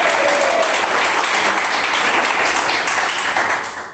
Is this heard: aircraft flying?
no